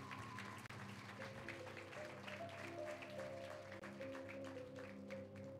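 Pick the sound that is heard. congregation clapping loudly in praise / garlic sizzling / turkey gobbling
congregation clapping loudly in praise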